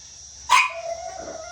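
Puppy giving a single sharp, high bark close by, with a ringing tone trailing off in a quiet room.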